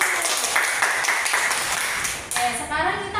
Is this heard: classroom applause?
yes